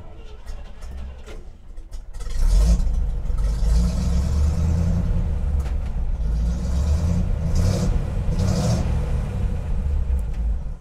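Old 1966-or-earlier junkyard car with its original factory 327 V8 idling steadily after starting up around two seconds in, a loud continuous low rumble with slight revving, no talk.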